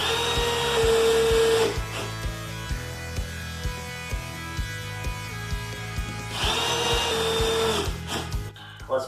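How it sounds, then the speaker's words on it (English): Power drill driving a screw into a kitchen cabinet during installation, two loud whirring bursts at start and end with a quieter stretch of rhythmic clicking ratchet-like pulses between them. "I can snug this top right screw here on the cabinet"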